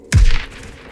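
A single sharp gunshot in an audio drama cracks out loud and close, with a brief booming tail fading quickly.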